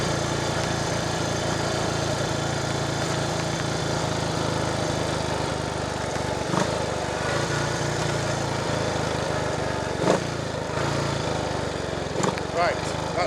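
A 1958 Triumph Tiger Cub motorcycle engine runs with a steady, close, buzzing thrum and a few sharp knocks and clunks, while a voice speaks briefly over it.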